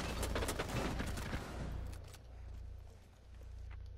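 Rapid gunfire bursts in Rainbow Six Siege, loud and dense for the first second and a half, then fading into quieter scattered shots and low rumble.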